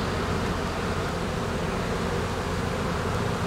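Honeybees in an opened hive during the first inspection of the year, with a dense, continuous buzzing hum up close and no talk.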